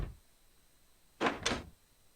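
A door closing in the game Norn9, two quick soft thuds close together after a faint earlier knock, quiet and alone over a low background hum.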